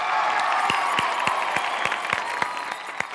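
Studio audience clapping on the set of the Taarak Mehta comedy show, a steady wash of applause with sharp individual claps standing out, moderately loud and continuous throughout.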